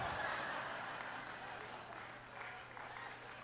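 Comedy club audience clapping and applauding for a comedian, a steady wash of claps fading slightly, with voices murmuring underneath.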